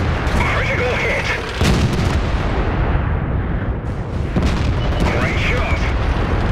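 Tank cannon fire in a winter battle of a tank video game, with loud booming shots and rumbling blasts over a constant noisy background, with in-game voice callouts.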